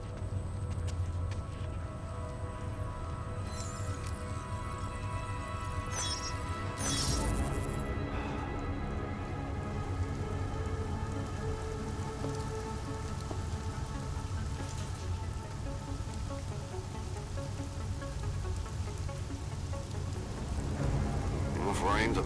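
Heavy rain pours steadily, a dense hiss of drops on surfaces, with a brief louder crash midway and a soft voice at the end, from the video game Deus Ex: Mankind Divided.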